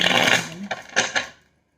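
A brief burst of papery riffling and flicking as a deck of tarot cards is shuffled close by, ending in quiet.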